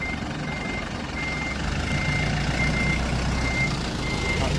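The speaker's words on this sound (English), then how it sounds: "This truck about to come in here." A reversing truck beeps steadily on a Japanese street in Enoshima, a repeating high tone over loud, continuous engine rumble and street noise.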